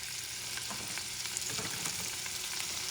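Sausages browning in a frying pan for Louisiana-style beans and rice give off a steady, close crackling sizzle with small pops, continuous for the whole stretch and with no voices.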